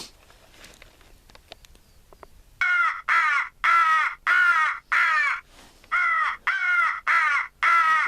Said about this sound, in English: I actually haven't heard a crow yet, so let's see what it sounds like.